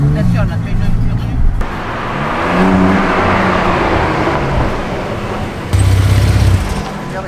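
A Porsche 911 or Lamborghini Urus accelerating hard, its engine swelling into a loud, close roar that surges, eases off, then surges again.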